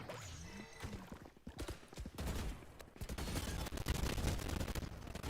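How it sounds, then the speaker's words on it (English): Gunfire from the Valorant video game, including a wall bang shot fired through a wall, heard as a loud burst of rapid shots with sharp cracks, then denser sustained firing and in-game effects that keep building to the end. "Mish does get that wall bang that will kill that Cypher, creating a 3v4 situation in favor of Keene State"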